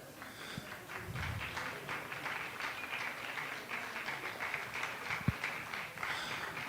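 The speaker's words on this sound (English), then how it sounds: "And I got applause." A small crowd at an evening carol sing claps briefly and lightly, a soft scattered patter of hands with a couple of sharper taps, fairly quiet and distant.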